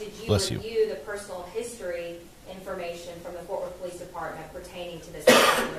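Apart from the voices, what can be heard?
sneeze in a courtroom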